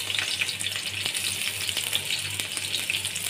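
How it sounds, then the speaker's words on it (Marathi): Sliced capsicum frying in a ladleful of hot oil in a well-heated kadai for veg Hakka noodles, giving a steady, close crackling sizzle with faint stirring scrapes and a low hum underneath, no voices. "मिरची फ्राय करून घेणार आहे चांगली."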